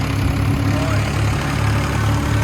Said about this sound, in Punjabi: ਟਰੈਕਟਰ ਜ਼ਿਆਦਾ ਹੀ ਰਾੜ ਰਿਹਾ ਬੋਲ ਰਿਹਾ